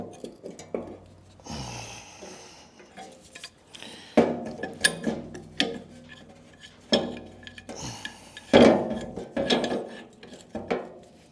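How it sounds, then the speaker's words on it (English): A spanner working on the bolts of a 1949 Marshall engine, giving close, intermittent metallic clicks, ratcheting and clinks in irregular bursts separated by short quiet gaps. "This spanner hasn't been used for a while."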